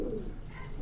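A male pigeon gives a brief, low, throaty coo close by in a loft, the short call standing alone without talk.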